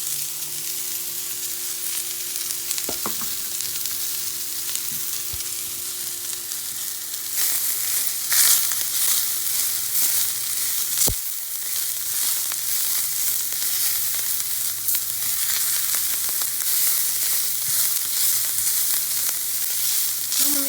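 Cabbage fries in a hot pan with a steady, dense sizzle lasting the whole stretch, growing a bit louder partway through, with occasional light clinks of stirring.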